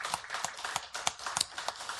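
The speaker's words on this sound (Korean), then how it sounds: "우리 한번 박수로 영광 돌리시기 바랍니다." A church congregation at a Korean prayer meeting claps together in a quick, rhythmic beat, with sharp claps landing about three times a second. The sound is fairly faint and has a roomy feel.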